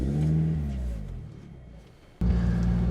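A Lotus Exige sports car pulling away, its engine revving and rumbling up close, easing off into a lull before a sudden sharp rise back to a loud, steady drone.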